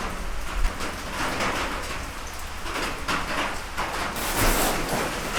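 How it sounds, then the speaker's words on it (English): Rain falls steadily and heavily on the Appalachian Trail, pattering on a nearby shelter surface in a dense, continuous wash of drops, with no voices. "It's raining again."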